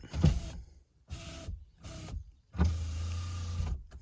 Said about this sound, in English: Only window that automatically will go up and down